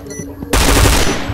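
Loud rapid automatic gunfire from a shooting video game bursts in suddenly after a quieter moment of ambient game noise, continuing as a dense sustained burst.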